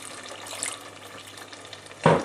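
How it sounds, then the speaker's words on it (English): Water is poured into a pan of simmering mince for stuffed peppers, with a soft cooking hiss throughout and a short, sharp splash and sizzle near the end. "I think I'm going to add a tiny bit more water"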